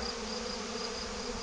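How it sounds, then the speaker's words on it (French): A honeybee swarm fills the open sky during a swarm chase, giving a steady, even buzzing hum that stays faint and continuous throughout, with no voices. "ce beau ciel plein d'abeilles là."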